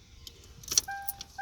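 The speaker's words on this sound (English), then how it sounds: "You put your key in there" A car key slides into a freshly lubricated ignition cylinder, giving a short series of soft metallic clicks and a light jingle of keys, close and faint, with no talking.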